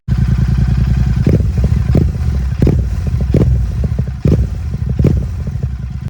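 A Royal Enfield Super Meteor 650 cruiser motorcycle engine and exhaust running close and loud, a steady deep thumping burble with several sharper clattering bursts as the throttle is blipped, no talking.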